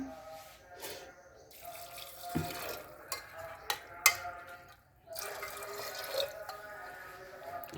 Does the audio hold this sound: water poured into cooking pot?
yes